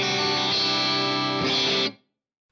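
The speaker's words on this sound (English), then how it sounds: "Now on this guitar, there are some split modes which sound like this." An electric guitar in a pickup split mode, played through a Fractal AX8 modeler, rings out as a bright, sustained chord with a second strummed chord near the end, then stops abruptly into silence.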